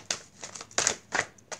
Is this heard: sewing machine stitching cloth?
no